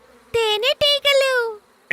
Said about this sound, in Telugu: తేనెటీగలు.